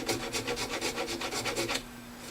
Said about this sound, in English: We'll be very careful with removing here. Just get the glue and no wood.